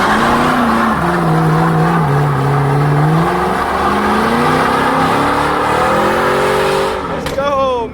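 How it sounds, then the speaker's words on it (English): A 2002 Chevrolet Camaro Z28 doing a burnout outdoors in Mexico, its V8 engine revving hard and rising in pitch with tire squeal, loud and close throughout before easing off at the end. "We end with a burnout."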